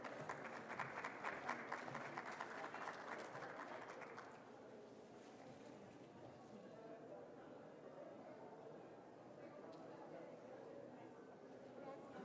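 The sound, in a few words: audience applause at a nursing conference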